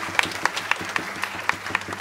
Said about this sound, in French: Applaudissements.